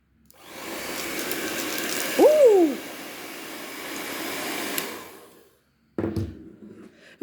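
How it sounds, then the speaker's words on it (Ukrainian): A hair dryer roars steadily at close range for several seconds, blowing on paper, briefly shifting pitch, then cuts off before a short burst of noise. "Подивимось, що відбудеться з папером, коли я вмикну фен."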